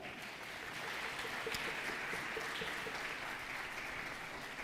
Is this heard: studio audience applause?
yes